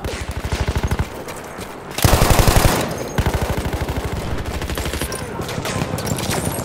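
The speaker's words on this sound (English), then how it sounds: "Machine gun, look Machine gun right there!" Sustained machine gun fire in the World War I shooter Battlefield 1, rapid even bursts loud and close, with a heavier explosive burst midway, then steady automatic firing continuing.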